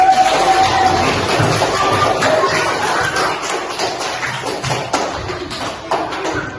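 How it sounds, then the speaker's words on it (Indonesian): Classroom of students applauding a group of classmates, a steady wash of overlapping claps and taps with crowd murmur throughout. "Beri tepuk tangan dulu untuk kelompok satu."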